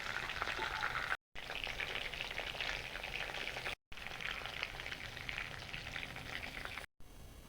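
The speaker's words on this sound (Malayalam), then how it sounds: "ബിരിയാണിക്കുള്ള ചിക്കൻ ക്രിസ്പാൻ പാടില്ല, നല്ല സോഫ്റ്റിൽ ഫ്രൈ ചെയ്തെടുക്കാൻ പാടുള്ളൂ" Chicken pieces for biryani fry gently in oil, producing a dense, continuous close sizzle like soft rain that breaks off briefly a few times.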